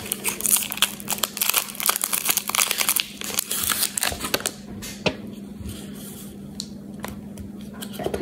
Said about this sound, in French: On va déballer la petite paille